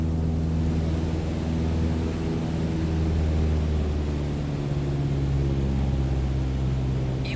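A steady, even drone of an aircraft engine throttled back to 1,800 RPM in Microsoft Flight Simulator 2020, a constant low hum and hiss, loud and unbroken throughout.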